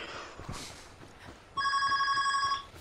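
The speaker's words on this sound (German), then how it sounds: "Telefon." A telephone rings in the Ghost Recon Wildlands video game, a single steady electronic trill lasting about a second, loud and close after a short stretch of quiet game ambience.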